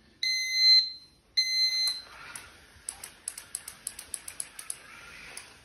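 Two sustained high-pitched electronic beeps sound from a PLC-controlled mobile robot's ultrasonic proximity warning, followed by a quick series of sharp, evenly spaced clicks, close and clear in a quiet room.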